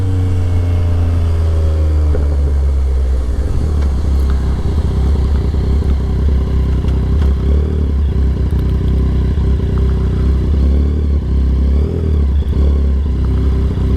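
Yamaha XSR 900 motorcycle engine, loud and close, a rising then falling rev at the start followed by a steady running drone with clattering mechanical texture, heard alone without talk.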